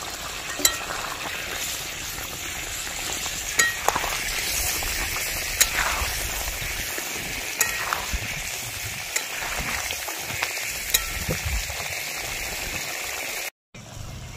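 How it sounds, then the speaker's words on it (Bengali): Fried elephant foot yam pieces drop into bubbling spice masala in a pan, and a continuous close sizzle follows with scattered clicks of stirring and a brief cut near the end. No one speaks. "মশলাটা ফুটছে, মশলাটা হয়ে গেছে, এবার আমি ভেজে রাখা ওলগুলো দিয়ে দিচ্ছি মশলার মধ্যে।"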